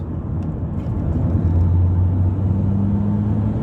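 A car accelerates hard out of a corner, its engine drone rising in pitch as the power comes on, steady and fairly loud from inside the cabin with no talk.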